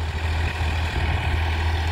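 Massey Ferguson 245 DI tractor, a 2018 model, with its diesel engine running steadily close by, a low, even throbbing drone without talk over it.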